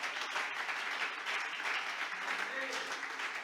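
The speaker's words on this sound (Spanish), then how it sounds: "Fuerte ese aplauso." A church congregation claps at a pastoral conference, a steady burst of applause with a voice speaking faintly beneath it.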